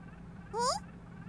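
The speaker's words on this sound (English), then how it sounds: "An idiotic electric squawk cuts into the conversation." A digital pet in a video game lets out a short electric squawk, a single bright warbling chirp that rises and wavers, heard alone over a quiet hum.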